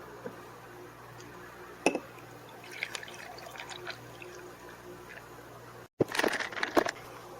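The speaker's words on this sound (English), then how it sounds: "Add a little water." A little water is poured into an iced coffee drink with cream, caramel syrup and espresso. It is mostly quiet, with one soft clink early on, then a short, close burst of trickling and splashing near the end.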